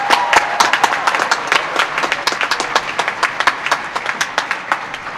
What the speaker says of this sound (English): I'm gonna ask you to applaud their efforts on your behalf